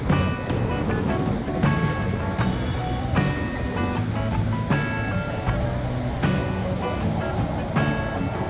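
Ocean waves break steadily on a skimboarding beach, giving a continuous loud wash of surf with no clear gaps and faint speech hidden underneath.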